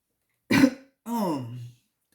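A person gives a short rough cough, then a second longer throaty burst that trails off in pitch, close to the mic with silence around both.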